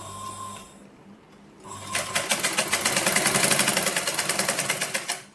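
A sewing machine stitches a blouse, with a short quiet pause before a steady, rapid run of needle strokes that carries on close and loud until it stops.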